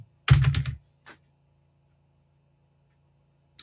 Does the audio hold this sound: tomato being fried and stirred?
no